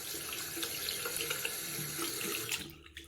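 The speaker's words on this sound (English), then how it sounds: "Wet your hands with clean running water." Clean water runs steadily from a tap into a sink for hand washing, a close, continuous splashing hiss that cuts off near the end.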